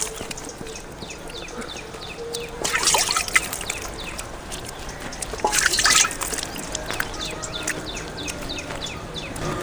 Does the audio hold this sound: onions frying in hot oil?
no